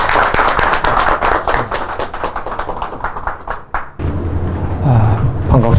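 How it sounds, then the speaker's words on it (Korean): Audience applause greets a professor arriving to lecture at a unification academy event, dense loud clapping for about four seconds before it gives way to room sound and voices. "이재봉 교수님 큰 박수로 모시고 강의 청해 주겠습니다."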